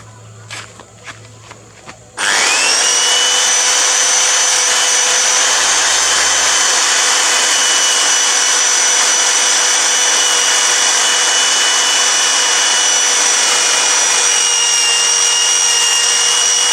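A power tool starts abruptly and whines at a steady, loud, high pitch as it cleans up an engine part during an 18R timing chain replacement, after a few light taps and handling noises.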